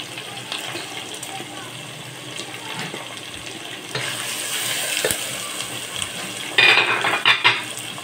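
Mutton with spices and potatoes sautéing in a pot gives a soft, steady sizzle, joined by scraping and clinking of a spoon against metal that grows louder toward the end.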